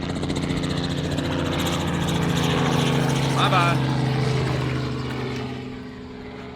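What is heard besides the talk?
helicopters flying over a lake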